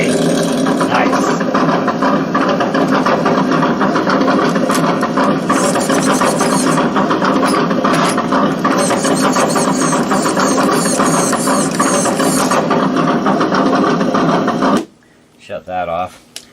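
A Traxxas TRX4 RC truck fitted with an upgraded steering servo runs its motor close up with a loud, continuous mechanical whine and rattle for about fifteen seconds. It then stops abruptly, leaving a few brief clicks, while someone talks over it.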